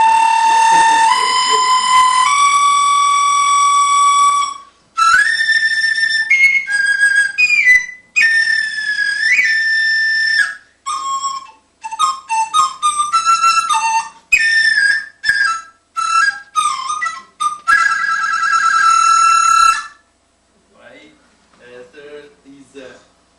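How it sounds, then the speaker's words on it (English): A flute played with the flutter-tonguing technique at a 1996 pipe festival workshop in Taiwan, with bright sustained whistling notes in short phrases separated by pauses, close and loud, ending with a few faint scattered tones. "Faster is flittering of the tongue tip inside the mouth to make a doo"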